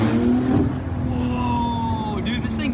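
An abandoned Porsche 911 Turbo in manual mode accelerates under load, its engine droning and rising steadily from inside the car while people talk excitedly over it.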